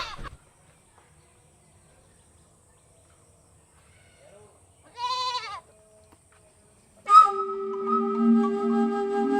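A goat bleats twice, a short wavering cry then a longer, louder bleat, separated by quiet.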